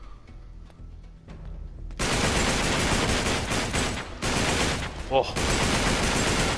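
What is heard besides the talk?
gunfire from a noisy gun in video game Uncharted 3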